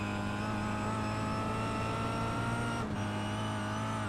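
A touring car engine holds steady under power in a racing game while cornering at Zandvoort, with a loud, constant drone of strong harmonics that dips briefly near the end before resuming.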